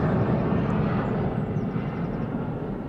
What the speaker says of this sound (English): is taking off. JetBlue to New York.